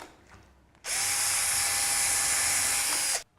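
A self-centering drill bit bores pilot holes for lid hinge screws: one loud, steady high whine starts abruptly, holds for a couple of seconds, then cuts off cleanly, with no other sound around it.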